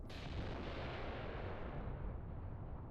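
Artillery shells slam into Soviet positions in the Mius Front strategy game, a dense, continuous roar of blasts and rumble that stays steady across the whole stretch, with no talking.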